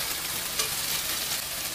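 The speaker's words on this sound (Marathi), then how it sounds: "असे चांगल्या प्रकारे छान हलवून परतून घ्यायची आहे" Onion-tomato mixture for a Maharashtrian black-eyed pea curry is stirred and sautéed in a pan, giving a steady close sizzle with soft scraping throughout and no talking.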